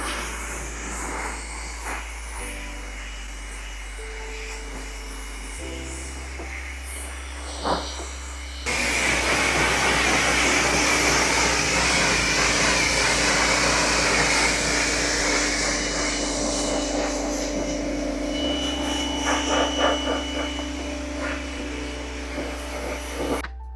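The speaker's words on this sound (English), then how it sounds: "So we're gonna go ahead and give it a pressure rinse." Pressure washer rinsing decon soap and cleaner off a car, a steady loud broadband spray that kicks in partway through over a low mechanical hum and runs to the end.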